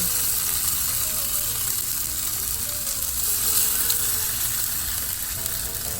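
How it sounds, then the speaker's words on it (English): Seasoned tofu for a vegan breakfast scramble fries in a pan, giving a steady close sizzle with a constant hiss and faint crackling and no pauses or talk. "put our seasoned tofu in the pan"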